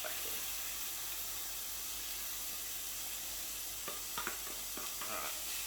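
Minced meat fries in a pan with a steady, close hiss and sizzle, broken by a few soft stirring clicks near the end.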